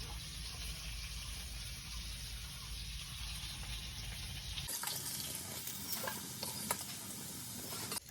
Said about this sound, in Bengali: প্রথমেই আমরা আলুটা ভেজে নেব